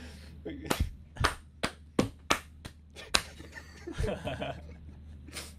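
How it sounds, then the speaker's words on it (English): A small group of people claps together during a casual interview, giving a string of sharp, close claps at uneven intervals, mixed with soft chuckles and laughter. "Oh, do we all need to clap?"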